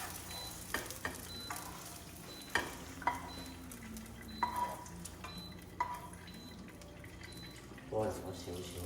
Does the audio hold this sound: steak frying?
yes